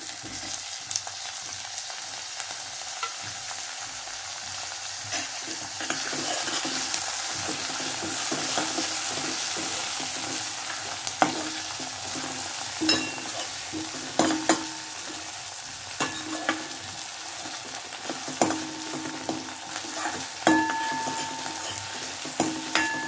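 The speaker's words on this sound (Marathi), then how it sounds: "हे असं परतून घेतेय" Onions and tomatoes sauté in a hot pan for a dry moth bean dish, a steady sizzle and fry running throughout, broken by frequent stirring scrapes and clicks of a spoon against the pan.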